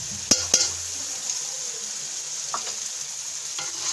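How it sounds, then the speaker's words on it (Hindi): Whisked yogurt is stirred into chicken karahi frying in a pan, with steady close sizzling and a couple of sharp spoon scrapes and clinks at the start, then softer stirring. "अब हम इसमें डालेंगे दही को फेंट कर"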